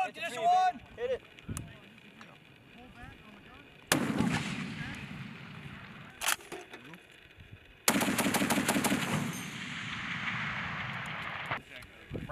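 Marines fire an M2A1 heavy machine gun on a range: loud, close bursts of rapid automatic fire with sharp reports and lingering echo, broken by pauses, while voices talk in between.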